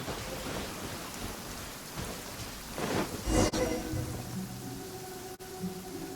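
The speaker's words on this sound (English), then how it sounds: "I love listening to the rain from the courtyard." Steady rain pours into a courtyard in a video game, a dense even hiss with a brief louder gust or rumble of thunder near the middle, then settling back to a continuous downpour.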